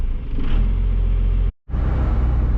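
A truck engine idles steadily right after a weak-battery start, a close, continuous low rumble with a brief dropout partway through.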